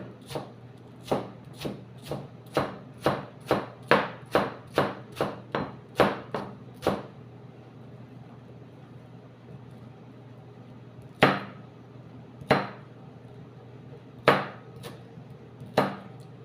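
A knife chopping through watermelon on a board, a steady run of about a dozen sharp close thwacks, then a pause and a few more spaced chops.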